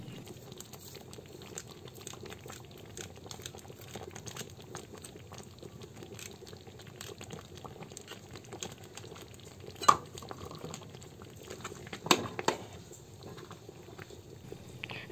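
Ginataang bilo-bilo with coconut simmering in a pot, a faint, steady low bubbling with occasional soft clinks and stirring knocks from utensils against the pot.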